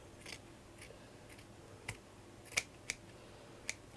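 Scissors cut straight across a piece of embroidered fabric, giving a few sharp, close snips spaced out over a quiet background.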